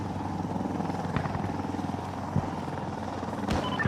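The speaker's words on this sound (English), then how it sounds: "Gunship on its way." A helicopter gunship arrives in the video game Insurgency Sandstorm, a steady rotor drone and rumble holding throughout with a couple of sharp thuds and a louder burst near the end.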